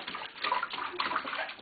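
A baby splashing water in a bathtub, producing soft, irregular sloshes and splashes close by with no talking.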